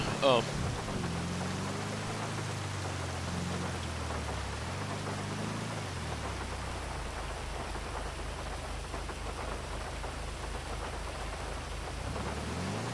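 Steady rain hiss in GTA Online at Senora National Park, a constant wet patter layered under a low droning car engine whose pitch rises and falls, with no talking.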